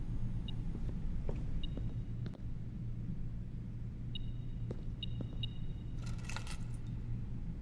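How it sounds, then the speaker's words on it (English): A spare set of car keys jangles in the video game Blue Prince: a short metallic rattle late in the clip over a steady low rumble, with a few thin chime-like tones earlier. "Great. A spare set of car keys."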